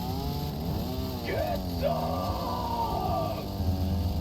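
A chainsaw melee attack in the video game Helldivers 2 runs as a steady buzzing drone while a voice yells and shouts over it.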